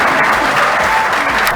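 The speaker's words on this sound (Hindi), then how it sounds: "जोरदार तालियों के साथ स्वागत है अभिनंदन।" Audience clapping loudly and steadily at a welcome for an SSC CPO exam achiever, a dense, continuous wash of applause throughout.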